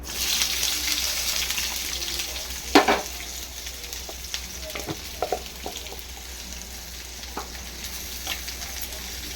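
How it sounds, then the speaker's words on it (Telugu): Onions frying in hot oil for a simple onion curry, a steady bright sizzle running throughout with a sharp burst near three seconds and scattered clicks of stirring, close and alone without talk. "ఆయిల్ హీట్ ఎక్కింది ఉల్లిగడ్డ వేస్తున్నాను"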